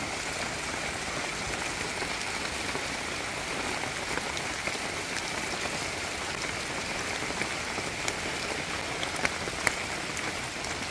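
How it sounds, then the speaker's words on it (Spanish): Steady rain falling outdoors, a dense, even patter of drops hitting surfaces, moderately loud and continuous with no talking. "Ya está lloviendo."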